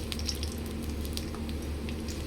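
Pieces frying in an oiled pan for a kaju chicken curry, a steady soft sizzle with faint crackles, continuous and fairly quiet over low kitchen hum.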